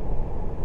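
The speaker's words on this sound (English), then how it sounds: "we are now on the road with the G87, the M2. What a machine this is." A BMW M2 G87 moves along a road with a brief, low, steady rumble of engine and road noise from inside the cabin, heard alone without talk.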